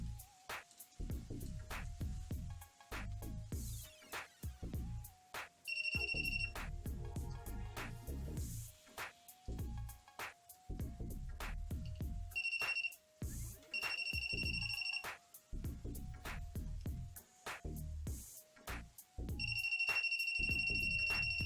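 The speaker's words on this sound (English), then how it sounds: "Why the voltage tester is ringing only when I touch and hold it from the opposite side?" A handheld voltage tester touched to a copper wire in a plasma generator experiment gives repeated high electronic beeps in short intermittent bursts, over steady low hum and handling noises, fairly faint.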